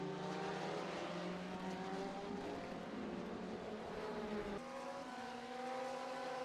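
Race cars in a sim racing GTE and Oreca LMP2 endurance event at Fuji, with steady engine drone and harmonic whine from several cars running close together, loud and continuous, a brief gear shift near the end.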